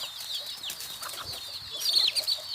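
Bantam laying hens inside their coop give repeated close clucks and short calls, with a brief flurry of louder clucking toward the end.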